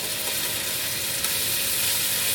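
A spice paste with chili powder fries in oil in a pan, a dense continuous sizzle and hiss held at an even, close, fairly loud level for a couple of seconds with no voices.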